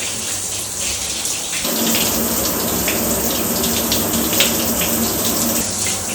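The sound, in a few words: water running onto a waterproof bag like a monsoon shower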